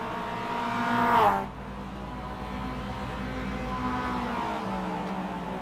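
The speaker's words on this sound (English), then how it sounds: "His car looks very second-hand, but he's still out there racing." Race car engines roaring on track in a racing video game, a close car swelling and then sweeping past with a sharp pitch drop, followed by a steady engine drone.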